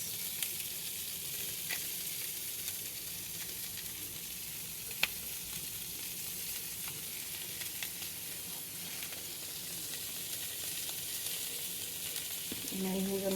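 Lamb breasts sizzle steadily in a pan, a continuous close frying hiss with occasional small pops and no talk.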